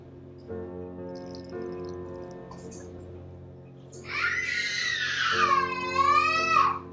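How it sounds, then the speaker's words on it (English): A young boy cries loudly near a handmade closed terrarium, starting with low babbling whimpers and rising into high wailing sobs toward the end. "Now my son is crying because he wants to touch everything here."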